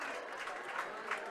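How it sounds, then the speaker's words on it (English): Supporters cheering from a big crowd at a Sligo vs Tyrone Gaelic football U-18 final, a steady roar of noise with applause swelling in a few brief peaks. "the supporters in red and white raise their flags and cheer that one"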